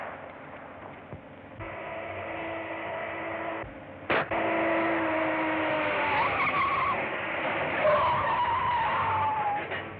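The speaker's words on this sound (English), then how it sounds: "Step on it, Craig. Step on it" Tires squeal and skid as a speeding car races along in a 1930s film chase, a harsh continuous screech over an engine drone, with a sharp bang near the middle and rising squeals after.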